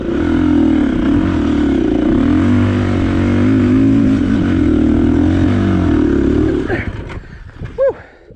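A KTM 350 EXC-F dual sport motorcycle climbs a hill on the Carson Emigrant Trail, its engine droning loud and steady at high revs before the throttle drops off abruptly, followed by a brief exclaiming voice.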